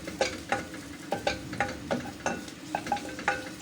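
Garlic sautéing in a pan as the base for chicken soup, with steady sizzling and a rhythmic series of scraping stirs, about a dozen strokes, close up and with no voices.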